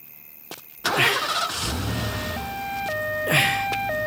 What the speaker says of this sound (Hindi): हाँ, पहले गाड़ी स्टार्ट करवा दो।